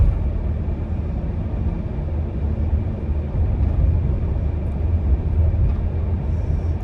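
A rebuilt minivan carrying tools rolls along on a test drive, its steady low road and engine rumble filling the cabin without a break and no clear rattle standing out.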